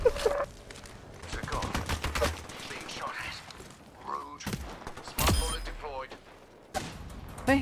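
Sniper gunfire in an online video game: scattered sharp shots and bursts ring out between stretches of game audio, loud against a busy background while players talk.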